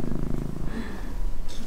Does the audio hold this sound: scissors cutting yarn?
no